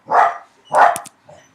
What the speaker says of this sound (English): the dogs are barking, and that's so annoying